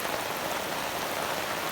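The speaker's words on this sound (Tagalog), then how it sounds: "malakas ang ulan" Heavy rain pours steadily outdoors, a dense continuous hiss of drops striking surfaces, loud and close with no voices over it.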